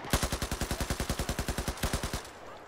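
Rapid machine gun fire in the Battlefield 4 video game, a loud burst of about twenty evenly spaced shots that ends abruptly, with no talking over it.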